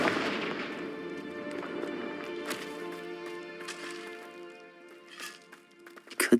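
Hogwarts Legacy's Confringo blasting spell in a phoenix rescue gameplay scene, heard as a sharp crackling burst near the start that rings out with sustained tones, followed by scattered pops and a louder bang at the end.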